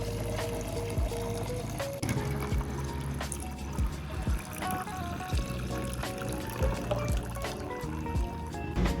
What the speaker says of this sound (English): Fill a clean container with water. Use enough to cover the root system,